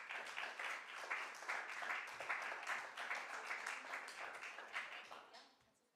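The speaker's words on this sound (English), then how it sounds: "A big applause for Katharina Urbanek." An audience at a housing and architecture talk in a villa applauds as the speaker is welcomed, a dense, steady clapping from many hands that holds for several seconds and then thins and fades toward the end.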